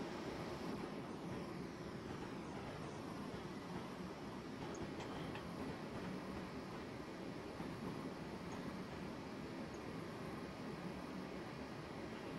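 Train passing in Train Simulator 2016 on the Portsmouth Direct Line, a continuous broadband rumble and rail roar holding steady throughout without pause, no voices.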